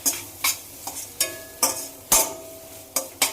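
Ginger garlic paste is sautéed in a pan for chicken gravy, with about nine close, rhythmic spatula scrapes over a low sizzle.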